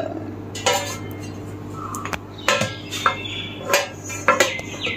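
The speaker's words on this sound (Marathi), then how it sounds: "ह्या प्रत्येक भांड्यावर आपण झाकण ठेवून देऊ." Lids clink down one after another onto clay curd pots in a home kitchen, a series of sharp clay-on-clay knocks and clatters, fairly close, with no talking.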